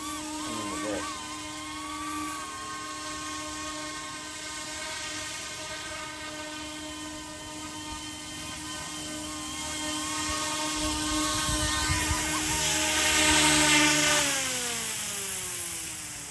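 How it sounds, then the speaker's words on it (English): A small helicopter-style smart drone flying indoors, a high, steady whining rotor buzz with shifting pitch that swells louder toward the end and then drops as it winds down. "smart helicopter. Essentially, it's a drone in a helicopter form."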